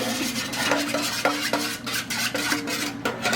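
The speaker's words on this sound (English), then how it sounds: "Put it in the pot, mix it around." Chicken wings are mixed with teriyaki sauce in a metal pot, with repeated scraping and clinking of a utensil against the pot in an irregular rhythm, close and moderately loud.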